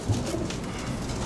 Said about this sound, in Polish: gołębie są parowane od zeszłego tygodnia